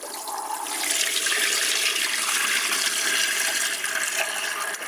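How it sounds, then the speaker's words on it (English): Water from a kitchen tap rushes steadily over rice being rinsed, a continuous close, hissing splash that stays even for several seconds with no talk. "Now I'm going to turn the water to cold and rinse it 3 more times."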